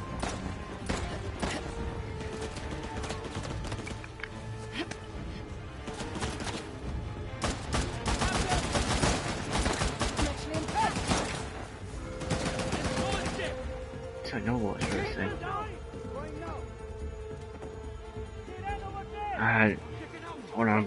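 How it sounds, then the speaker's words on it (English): Gunfire fills a combat scene in the video game Uncharted: The Lost Legacy, with dense rapid bursts and shots over a constant loud bed of game noise while voices talk throughout. "Where's the shooting coming from?"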